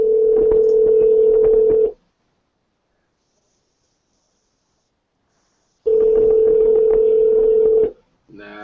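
A phone ringback tone sounds through a call in two long steady tones about four seconds apart, separated by silence, with a brief voice starting at the end.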